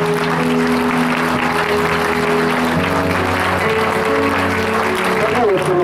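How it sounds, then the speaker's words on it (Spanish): A church congregation applauds together during a service, a dense steady roar of clapping held for several seconds over sustained organ-like music tones. "Denle un fuerte aplauso a Dios"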